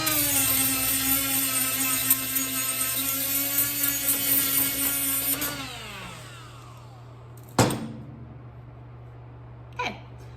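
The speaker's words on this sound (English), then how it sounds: "I'm gonna take the flap wheel to it, and I'm gonna clean some of these up" Flap wheel on an angle grinder cleaning MIG weld spatter and excess wire off metal: a steady high whine with grinding hiss for several seconds, then the motor winds down, followed by a couple of short knocks.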